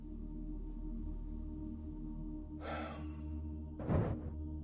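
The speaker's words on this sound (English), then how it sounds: "You can hear him panting, clearly shaken by what's happening outside his van." A frightened man breathes heavily inside a van at night, two or three audible breathy exhalations and gasps, close and fairly loud over a low steady engine-like hum.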